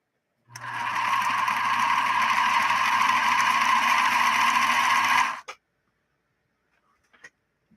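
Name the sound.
Bernina Minimatic 707 sewing machine stitching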